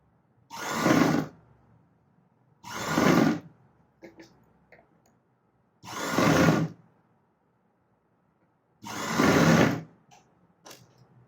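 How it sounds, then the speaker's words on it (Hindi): A sewing machine stitches a sleeve into a blouse at the joint seam in four steady runs of about a second each, separated by pauses with faint clicks and handling noises between them. "हमें सिलाई करनी है।"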